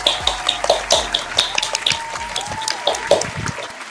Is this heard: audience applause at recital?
yes